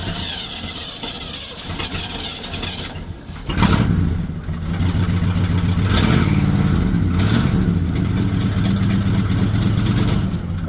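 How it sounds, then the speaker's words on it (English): An old farm truck engine, suspected of an exhaust leak, first runs roughly, then rises into a louder, steady rumbling run with a low throbbing idle held close by. "Sounds like it might have an exhaust leak, don't it, Darwin?"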